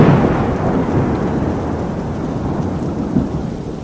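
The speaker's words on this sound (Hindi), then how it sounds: "अचानक जोर जोर से बिजली कड़कने लगी।" Deep rolling thunder rumbles under a steady roar of heavy rain, continuous throughout with no voices.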